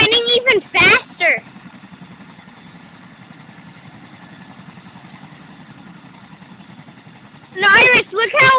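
The rotors of a Chinook helicopter spin while it lands, making a steady, loud, droning thrum. Voices break in briefly at the start and again near the end.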